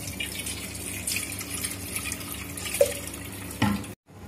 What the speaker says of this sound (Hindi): अब इस पर ठंडा पानी डाल देंगे।